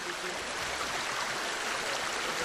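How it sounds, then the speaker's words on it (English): A rushing mountain stream in Saxony's Erzgebirge region, a steady, dense broadband wash of water running close to the microphone without pause. "Here, one employee is recording a mountain stream."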